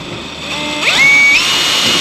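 A high-pitched drill whine rises and holds steady for a moment against a constant mechanical hum, sounding close by, as a bit drills into metal on a 1969 Dodge Dart.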